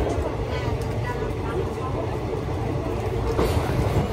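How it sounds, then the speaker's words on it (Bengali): A train pulling out of Barrackpore on a route toward Ranaghat and Murshidabad, heard from inside an AC chair car as a steady, continuous low rumble with a faint rattle throughout. "ব্যারাকপুর থেকে ট্রেনটি রাইট টাইমেই ছেড়ে দিল।"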